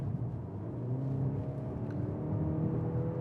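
Mercedes C300 AMG Line engine in Sport Plus mode, heard from inside the cabin as a low, steady drone with enhanced interior sound, a muffled hum that rises slightly, with no talking.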